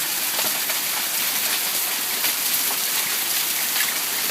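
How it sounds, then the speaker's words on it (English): Hail pours down during a summer storm in Omaha, Nebraska, a dense, steady hiss and patter of stones striking surfaces nearby, continuous and fairly loud with no voices. "Hail. We've got hail."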